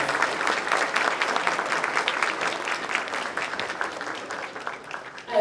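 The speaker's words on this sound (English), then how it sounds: "So we give them a round of applause." An audience at a school role model breakfast applauds continuously, a dense, even patter of many hands clapping close by that gradually thins slightly toward the end.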